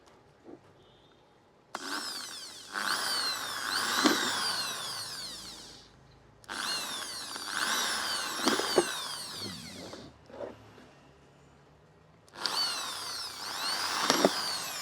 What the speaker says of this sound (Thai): ชิ้นที่สองทำการเจาะรูนะ